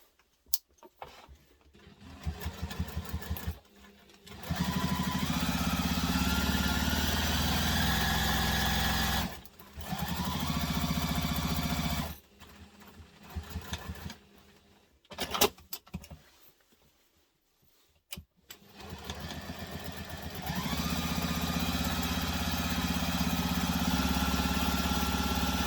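Sewing machine stitches down the sides of a fabric wristlet in several loud, close runs of steady motor whir, separated by quiet pauses and brief handling clicks.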